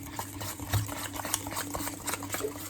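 Butter and icing sugar being mixed in a bowl, a soft, steady whirring and scraping churn with small irregular knocks, fairly quiet and close.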